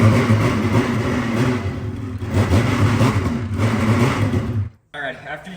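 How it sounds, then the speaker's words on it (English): A Ski-Doo Gen 5 850 snowmobile engine runs loud and close, its revving rising and falling steadily before cutting out abruptly near the end, with a brief return of sound afterward. "I'm gonna hurry and fire the sled up, and I'm gonna pull it forward and backwards"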